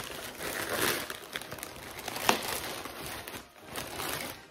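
Plastic wrapping crinkles and crackles in uneven handling bursts while an ice fishing purchase is unboxed, fairly quiet and close.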